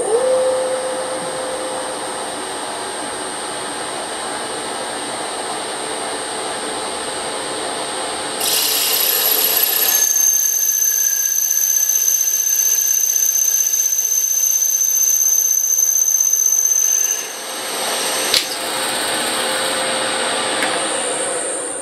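A belt grinding machine runs steadily with its belt speed turned down a notch while finishing a turned diameter, giving a continuous whirring hum with high whining tones and a slight singing ring that shifts partway through.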